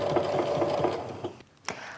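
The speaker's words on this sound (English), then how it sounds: "we are now finished with the sewing machine" A sewing machine stitches around a pleated wristlet bag with a steady, close whirring hum, pausing briefly before a short final burst of stitching.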